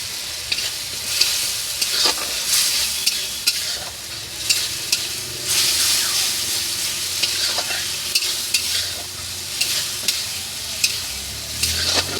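A tomato, turmeric and salt masala fries in a pan under a constant sizzle, with a spoon stirring it in regular scraping strokes throughout.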